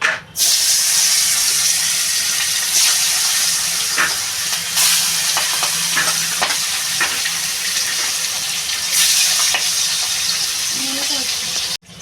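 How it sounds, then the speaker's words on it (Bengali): Turmeric-coated catla fish frying in hot oil in a wok, a loud, steady close sizzle with crackles and occasional scrapes running throughout, fading abruptly at the very end. "আমি মাছটা ভাজবো কড়াইতে তেল দিয়ে দিচ্ছি"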